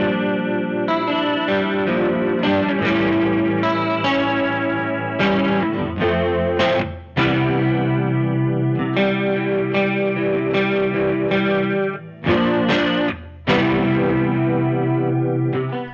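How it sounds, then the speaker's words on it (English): Electric guitar run through a Line 6 DL4 pedal using its non-delay effects, a chorused, slightly distorted tone with sustained chords and short melodic phrases, close and even in level with brief gaps, no voices. "I found quite a few usable sounds in the DL4 that weren't delay sounds"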